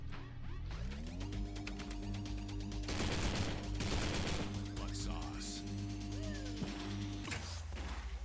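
Gunfire aimed at the player in the shooter Postal 4, several loud bursts and bangs mixed with crashes and clanks over a humming tonal backdrop.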